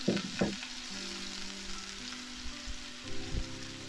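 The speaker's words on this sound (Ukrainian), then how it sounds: "На розігріту сковорідку з рослинної олії викладаємо цибульку." Onions sizzling and frying in hot vegetable oil in a pan, a steady crackling hiss with a couple of stirring scrapes near the start and end.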